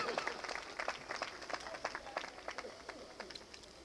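Audience at a mushaira poetry gathering in Champaran, Bihar, claps in a quick, scattered burst of applause, moderately distant and fading over a few seconds, with a faint voice in the background.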